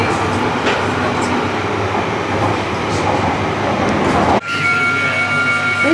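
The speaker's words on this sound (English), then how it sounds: "This is the Northern Line train and Edgware." A London Underground Northern Line train at the Euston platform rumbles loudly and steadily, then the sound shifts abruptly near the end to a quieter, tonal hum, like doors closing or the carriage changing.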